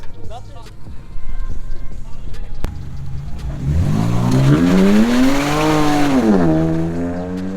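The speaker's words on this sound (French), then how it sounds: "j'entends des trucs démarrer au loin" A car engine revs up and holds a rising, falling drone, with other engine noise around it and voices talking over the top.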